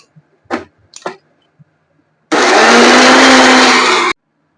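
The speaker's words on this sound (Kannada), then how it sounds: "ಇದು ಮಿಕ್ಸಿಗೆ ಹಾಕಿ ಆಯ್ತು ಆಲೂಗಡ್ಡೆ" After a few soft knocks, a kitchen mixer grinder whirs loudly for about two seconds, grinding potatoes with a little water, then stops abruptly.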